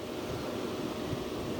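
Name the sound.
wind blowing into microphone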